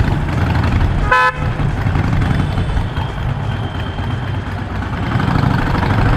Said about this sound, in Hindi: बहुत ही ट्रैफिक वाला एरिया है ये, और ट्रैफिक तो यहाँ पे बहुत ही ज़्यादा है।